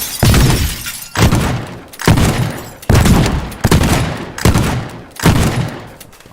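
A shotgun is fired repeatedly in a Garry's Mod-style video game, about seven loud, booming blasts spaced roughly a second apart, each with a short decaying tail and no talking.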